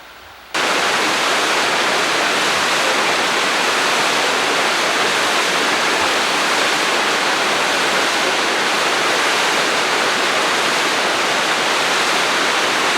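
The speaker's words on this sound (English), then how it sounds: "If you can hear me over the stream" Steady rushing water from a stream in Tennessee fills the whole clip, a dense, continuous broadband wash, with no voices and only a brief quiet moment at the start.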